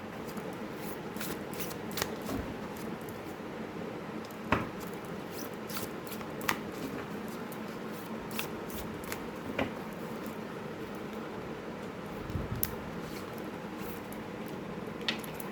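A deck of oracle cards being shuffled by hand, steady soft riffling and sliding with occasional sharper taps and flicks, close and quiet, with no talking.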